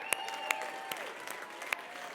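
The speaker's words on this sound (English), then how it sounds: "I think that deserves a round of applause" Audience applause at a Make-A-Wish charity wine gala auction, soft and diffuse clapping from the room with a few sharper nearby claps standing out and a faint ringing tone underneath.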